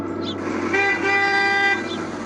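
A merchant's vehicle honks as it sets off, a sustained horn blast about a second long over steady low engine rumble, fairly close and loud.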